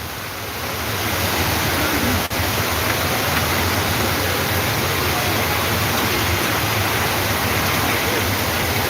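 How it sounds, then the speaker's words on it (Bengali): Heavy rain pours steadily onto city streets at night in Sylhet, a dense, unbroken roar of broadband hiss that swells in the first second and then holds loud and constant, with a brief faint click partway through. "প্রচুর বৃষ্টি শহরে পড়ছে।"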